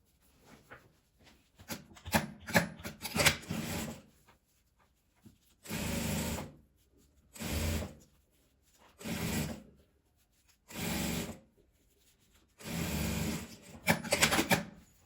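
Sewing machine stitching a seam to close the fabric of a patchwork shoulder bag, heard in several separate bursts of steady mechanical whirring with short pauses between them, alone without talk.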